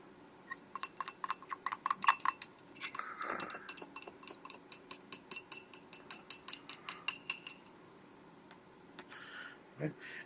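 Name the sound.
stir rod scraping aspirin solid from glassware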